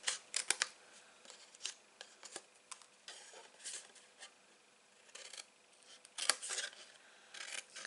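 Scissors snip through paper craft pieces for small Stampin' Up favours, a series of quiet, irregular cuts and rustles with short pauses between them and no talking.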